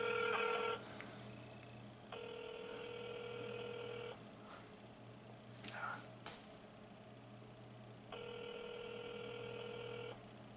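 A phone call ringing out on speakerphone, three repeated electronic ring bursts about two seconds each separated by pauses, fairly quiet over a low hum, with faint rustling between rings.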